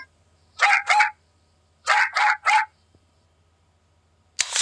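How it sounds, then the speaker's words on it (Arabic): A dog barks twice, pauses, then barks three more times in quick succession, close and sharp against near silence. "كلب"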